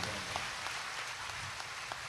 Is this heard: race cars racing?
no